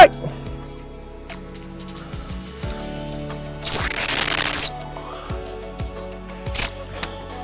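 A sharp, shrill stop whistle used in training a six-month-old working cocker spaniel sounds as one long blast, followed later by a brief second peep, over faint outdoor rustling.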